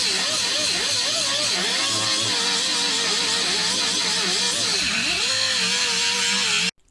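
A pneumatic air cutoff tool cuts through rocker panel metal on a Mercury Sable, a loud continuous high whine that wavers in pitch as the blade bites, stopping abruptly at the end.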